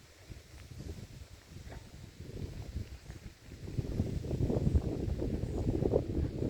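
Wind gusts buffet the microphone with a low rumbling roar, growing stronger and steadier toward the end, with faint rustling underneath.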